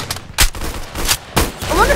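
A P90 fires in the Roblox-style shooter Arsenal: several sharp, close bursts of rapid gunfire in quick succession, with louder shots punching through a busy game background.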